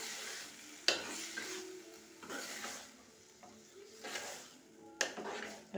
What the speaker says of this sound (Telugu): నెక్స్ట్ టమాటా, వేసుకొని ఇలా కొంచెం కలుపుకోవాలి.